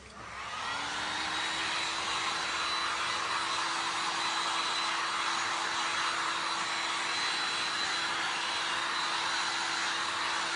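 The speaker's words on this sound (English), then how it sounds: "let me dry it real quick. Let me hit it with my dryer" A hair dryer runs steadily and close by for the whole stretch, a loud continuous whoosh with a faint whine, used to dry a glass art piece; no talking is heard.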